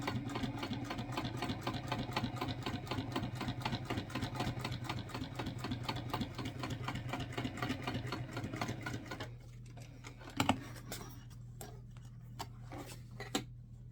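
A sewing machine stitching the flap of a clutch bag, running in a fast steady close whir for about nine seconds, then stopping, followed by a few small clicks and handling noises.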